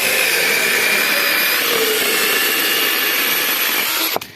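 Procraft PKA 32LI cordless battery-powered mini chainsaw cutting wood, a loud steady high-pitched whine running continuously for about four seconds before the motor cuts off abruptly near the end.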